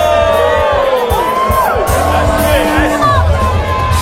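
A loud crowd cheers and whoops continuously at a fight event as a fighter enters, with shouts rising over a dense babble of voices.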